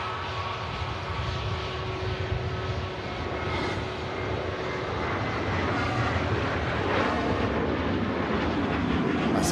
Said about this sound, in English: Sun Express about to depart